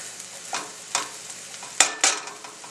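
An egg frying in a pan gives off a faint sizzle while a spatula scrapes beneath it, with a few soft scrapes and one sharp clack as it is flipped, close and alone.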